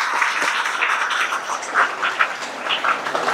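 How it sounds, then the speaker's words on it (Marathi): An audience claps at an Independence Day celebration, a dense, continuous patter of many hands, moderately loud and steady throughout with no voices over it. "टाळ्या वाजवायला पाहिजे"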